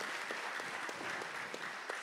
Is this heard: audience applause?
yes